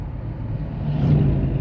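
A car being driven across a small iron bridge in Brownsville over the Monongahela River, a steady low engine rumble and road drone that swells slightly, with no talking.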